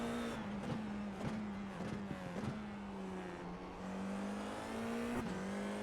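FIA F4 race car at Circuit Gilles Villeneuve in Montreal, engine droning loud and steady on board as it accelerates down the long back straight, the pitch holding and climbing between quick gearshift blips.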